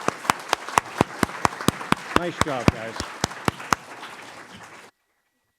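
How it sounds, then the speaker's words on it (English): A small audience claps for the candidates at a League of Women Voters candidate forum, a loose run of separate sharp claps fading out before silence, with a voice speaking briefly over them. "Let's give them a round of applause."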